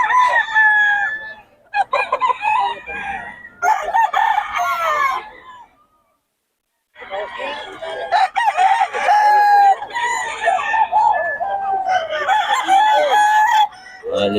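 Gamefowl roosters at a Bocaue farm crow loudly and close, several overlapping calls with clucking between them and a brief silent gap partway through.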